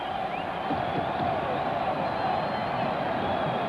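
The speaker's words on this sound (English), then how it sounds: "the big crowd here begins to hoop and holler" A big arena crowd at the 1960 Olympic ice hockey game, USSR against USA in Squaw Valley, keeps up a steady roar of cheering and hollering, dense and unbroken throughout, with a commentator's voice under it.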